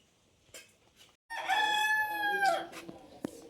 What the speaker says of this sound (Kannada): ಪೂಜೆಗಿರುವ ಕೋಳಿ ನೋಡಿ